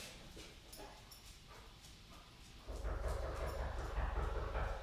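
A dog whines with faint high-pitched whimpers over a steady background rumble that grows louder halfway through.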